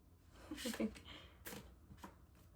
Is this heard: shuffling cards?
yes